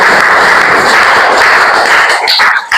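A game-show studio audience bursts into loud, dense applause that holds steady without a break, then thins and drops away near the end.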